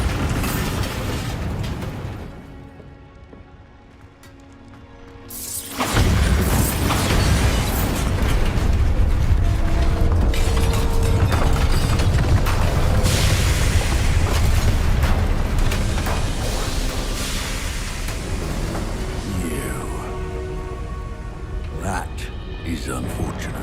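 A Bombarda spell in the Hogwarts Legacy video game sets off a loud booming explosion that swells suddenly and rumbles on for many seconds, heavy and close, with voices from the game over it.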